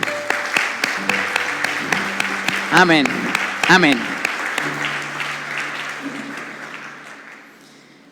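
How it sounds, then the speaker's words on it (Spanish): Church congregation applause breaks out in a burst of crisp, fairly close clapping, joined by voices calling out, then thins and fades away toward the end. "Un fuerte aplauso para Dios."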